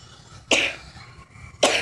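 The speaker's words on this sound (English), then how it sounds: "I cough a lot, so if you hear coughing in this video, don't judge me." Two sharp coughs, close by, separated by about a second of quiet room tone.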